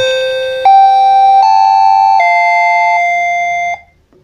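A wireless doorbell plays its second chime tone: a loud, clean electronic melody of four sustained notes stepping up and down, ending with a quick fade to silence.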